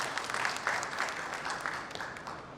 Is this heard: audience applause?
yes